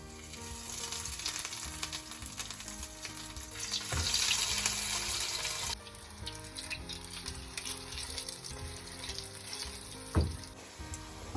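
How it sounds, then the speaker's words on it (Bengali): Chicken patties crackle and sizzle in hot oil with a dense, steady spatter, a louder burst around the middle and a sharp clatter near the end. "তেল গরম হয়ে গেছে, এবার আমরা প্যাটিগুলোকে ভেজে নেব।"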